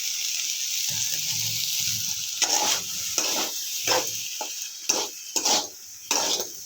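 Semolina upma with vegetables is stirred in a pan, with a loud steady sizzle and repeated scraping strokes close by.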